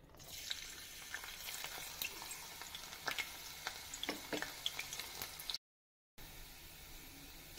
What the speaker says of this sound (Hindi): पहले मैं इसको ब्राउन करूंगी, लहसुन को कढ़ाई